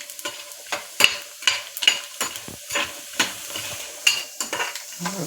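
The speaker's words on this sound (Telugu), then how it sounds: "అందుకని జాగ్రత్తగా వీటిని మంచిగా అక్కడనే ఉండి ఫ్రై చేసుకోవాలి ఆయిల్లో" Dry meat fries in oil under a steady sizzle while a spoon scrapes and knocks against the pan in repeated, uneven stirring strokes, close and clear with no talking.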